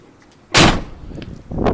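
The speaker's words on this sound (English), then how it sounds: "Doors close properly." A Sprinter van's door shuts in a single loud, solid slam, followed by a quieter closing thump shortly after, with no voices.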